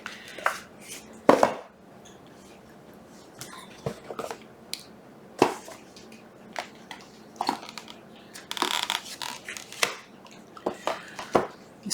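Cardboard boxes being shifted and a deck of tarot cards handled, giving scattered sharp taps, snaps and shuffling knocks spread irregularly over the stretch, with no talking.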